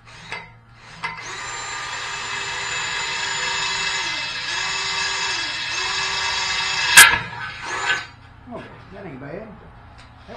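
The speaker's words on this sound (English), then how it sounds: "We're just going to drill a hole through this casting." A power drill bores a hole through a metal casting on a Shopsmith, giving a loud, steady high-pitched whine for about six seconds. It ends in a sharp crack, then the drill stops and a few faint rustles follow.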